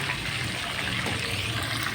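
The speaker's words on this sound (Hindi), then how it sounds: "इसमें से अब जो एक्स्ट्रा घी है ये हम निकालेंगे" Excess ghee poured off a chicken karahi, a steady liquid pour and trickle heard close with no talk over it.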